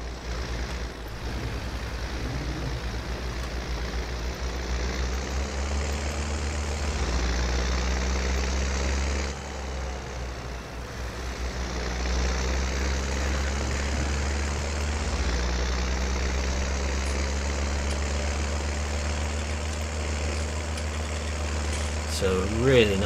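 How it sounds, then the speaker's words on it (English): A Deutz-Fahr Agrostar tractor in Farming Simulator 19 idles with a steady low diesel rumble, its pitch shifting slightly a few times, while someone talks over it. "So a really nice sounding tractor."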